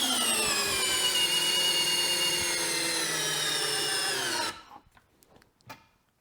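A DeWalt DCF601 12-volt screwdriver runs continuously with a steady high motor whine and gear buzz for about four and a half seconds, then cuts out abruptly, leaving quiet handling noises.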